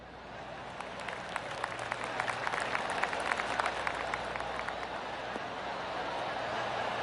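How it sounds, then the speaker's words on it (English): Golf gallery in the video game PGA 2K25 applauding and cheering on the course, a dense spread of distant clapping that swells and then fades into a steady crowd murmur beneath a commentator's voice. "The course looks pristine, the crowd is buzzing"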